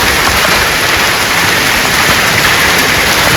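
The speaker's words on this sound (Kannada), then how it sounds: "ಆನಿಕಲ್ ಮಳಿ ಭಾರಿ ಬೀಳಾಕಂತೈತಿ" Heavy hailstorm rain pours down in Guledgudda, a dense, steady roar of falling water and hail that stays loud and unbroken throughout, with no voices.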